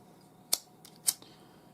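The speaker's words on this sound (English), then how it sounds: "then we just need to cut off these excess pieces" Two crisp snips of scissors cut off excess cord from a knotted scales bracelet, each a sharp, close click about half a second apart, with faint handling sounds between in an otherwise quiet room.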